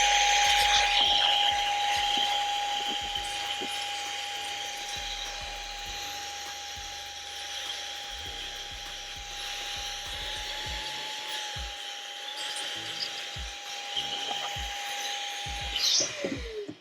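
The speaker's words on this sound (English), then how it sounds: "I typically just like to use a little, it's over here actually, wireless air compressor, just to get off that soap" A wireless air compressor blows soap off Christian Dior sandals during cleaning, giving a continuous hissing whine with a steady tonal hum that runs throughout, with light handling knocks underneath.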